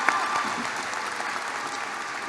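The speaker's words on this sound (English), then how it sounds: "Keep clapping" A large audience at a college graduation ceremony applauds steadily in a broad, even wash of clapping that holds at one level throughout.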